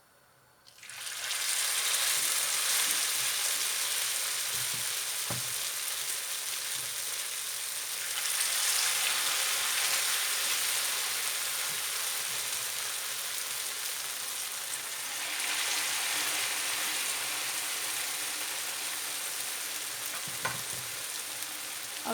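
Potato köfte patties frying in very hot oil give a loud, steady sizzle throughout, swelling at moments as patties are added or turned, with a few faint clicks of utensils.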